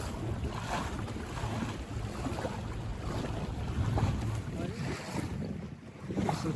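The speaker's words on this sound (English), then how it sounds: "This wind out here is wonderful. It's not gusty." Steady wind buffets the microphone aboard a Buccaneer 18 sailboat on a broad reach, a continuous dense roar and rush of air with water sloshing beneath it, unbroken throughout.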